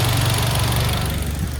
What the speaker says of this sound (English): I need to stop the engine.